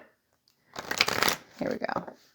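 A past lives tarot card deck being shuffled, two short bursts of riffling and shuffling card noise, close and fairly loud, with a brief pause between them.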